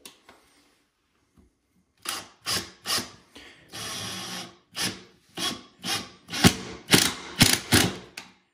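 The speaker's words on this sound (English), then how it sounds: "I like to go ahead and take my impact and run one of them down each hole" An impact driver runs GRK coated construction screws into plywood while a toilet closet flange is installed in a bathroom, giving a rapid series of loud, close bursts of hammering rattle after a quiet start.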